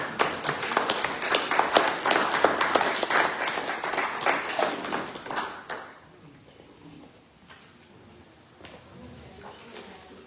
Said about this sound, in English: a big welcome, a big hand of applause